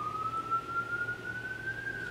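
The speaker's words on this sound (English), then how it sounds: "all the fire trucks, all the policemen, all the ambulances decide to go by." Passing emergency vehicle siren heard from indoors, a single steady wailing tone that slowly rises in pitch over a low traffic rumble.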